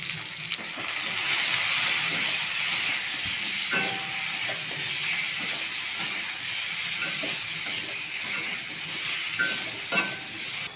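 Potatoes fry in a pan with salt and turmeric, giving a close, constant hissing sizzle with occasional clicks of stirring and no voices.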